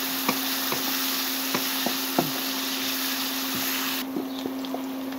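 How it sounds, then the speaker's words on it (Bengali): Garlic, onion and green chili stirred in a pan with a spoon, giving a series of sharp, evenly spaced scraping knocks over a steady frying hiss, close and moderately loud. "এখন এটাকে নেড়ে চেড়ে নেব।"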